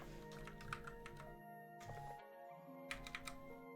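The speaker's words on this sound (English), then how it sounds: "I'll type it myself then." Computer keyboard keys typed in quick, light bursts with a short pause midway, close and fairly quiet over a faint hum, no speech.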